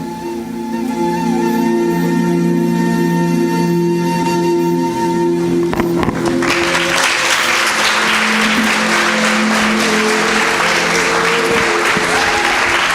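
Audience applause breaks out after a drama performance on an Indian epic theme, rising sharply out of sustained music to fill the hall with dense, loud clapping.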